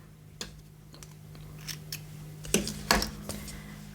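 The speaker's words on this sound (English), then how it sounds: "now I'm going to cut my yarn tail" Scissors snip through a crochet yarn tail, giving two or three crisp close cuts around the three-second mark after a few lighter clicks and rustles of handling.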